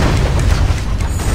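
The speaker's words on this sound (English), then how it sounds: "As we push them back, the cannons will fucking knock them off" Loud, deep booming blasts from siege cannons during a castle defense in the video game ArcheAge roll together into a continuous low rumble, heavy and close throughout.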